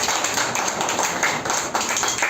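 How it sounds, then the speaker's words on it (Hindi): A gathering at a 43rd wedding anniversary celebration, where an institution's children were served a meal, breaks into loud, sustained applause for the guests of honour, a dense and even patter of many hands close by. "जोरदार ताली बजाओ"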